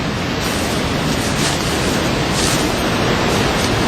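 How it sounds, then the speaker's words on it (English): Loud, dense roar of a river rushing past eroded concrete near the old mill at Livermore Falls, a constant broadband wash with no break and no voices. "now you can hear the river, and it's getting really loud"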